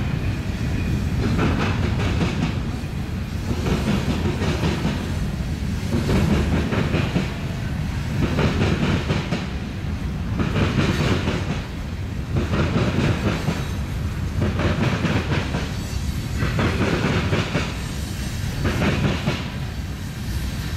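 A long CN freight train rolls over a railroad diamond at a tower junction, its wheels pounding out a steady, loud, rhythmic clickety-clack in repeating bursts as car after car passes close by.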